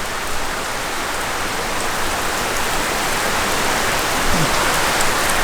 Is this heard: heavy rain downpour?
yes